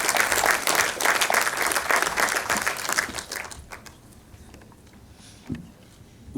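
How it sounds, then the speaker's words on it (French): An audience applauds after a keynote on the future of creation and AI, the dense clapping loud for about three seconds before thinning out and fading to a few scattered claps. "on peut les applaudir"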